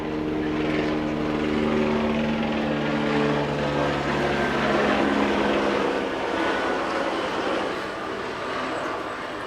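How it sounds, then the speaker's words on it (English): Steady loud drone of a helicopter passing overhead, rotor and engine hum filling the whole stretch and easing slightly near the end. "Hold for helicopter sound."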